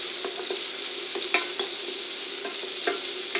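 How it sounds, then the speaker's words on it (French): Food sautéing in hot oil in a pan for cocotte eggs, a steady close sizzle with scattered crackles and pops and no talking. "Alors là, on va juste les faire revenir."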